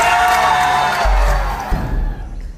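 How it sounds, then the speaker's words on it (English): A crowd gathered outside the Fashion Bug clothing store in Sri Lanka, a dense wash of many voices with a few shouts rising from the steady murmur before it thins out near the end. "A crowd gathered outside the clothing store Fashion Bug"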